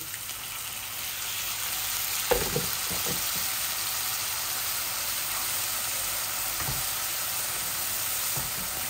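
Onion and spices frying in a black frying pan sizzle loudly and steadily after a splash of water goes in, with a few brief clatters of stirring near the start and toward the end.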